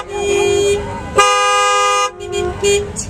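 Car horns honk in street traffic at a ghost rally, a long sustained blast followed by shorter toots, loud and close, with traffic noise underneath.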